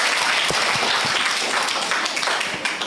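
Classmates clap for a student's Hindi poem recitation at a school antakshari event, a loud, dense burst of clapping from a group of children that continues steadily for a few seconds.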